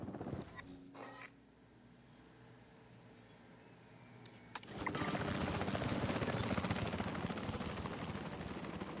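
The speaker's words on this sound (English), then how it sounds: "Attention personnel. Please stand by for the returning helicopter." A returning helicopter in the video game Jurassic World Evolution 3 starts faintly amid mechanical creaks and distant animal calls, then swells suddenly into a loud, steady rotor roar that holds to the end.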